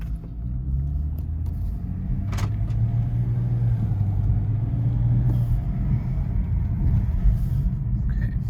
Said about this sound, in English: I'll let this car warm up a little bit.